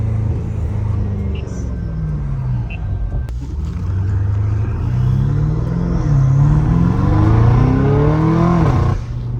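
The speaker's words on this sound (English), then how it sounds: "If you guys own an M5 and you want an exhaust like this" BMW M5 F90 Competition fitted with a full titanium exhaust and downpipes, revving up with a deep, rising engine roar that builds over several seconds and then cuts off sharply, with a person talking over it.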